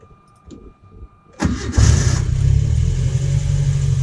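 A Renault Caravelle 1100S engine is cranked and catches after a second or so of quiet clicks, then settles into a loud, steady idle close by.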